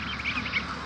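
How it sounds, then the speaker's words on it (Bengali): Goose goslings kept among green plants in a yard give a quick run of soft, high quacking peeps, close by and steady for about a second. "রাজহাঁসের বাচ্চাগুলি সবুজ গাছের মধ্যে এভাবে নিয়ে আসবেন"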